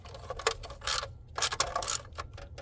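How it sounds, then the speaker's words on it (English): A ratchet turning the spark plug coil bolts on a Honda Accord with a 2.4L engine, several quick bursts of close metallic clicking separated by short pauses, with no talk. "Then grab your ratchet and give each bolt a little turn."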